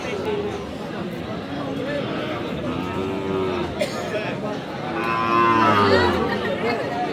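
Shahiwal bulls and calves at a livestock market, with a couple of drawn-out moos around the middle and end over steady crowd chatter and nearby talking.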